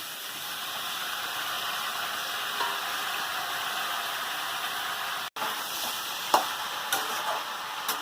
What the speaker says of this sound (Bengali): এরকম করে নেড়ে পুঁই শাকটা দিয়েছি